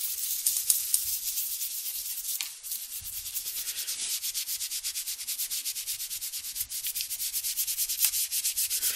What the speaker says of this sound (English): And then we're going to scrub it.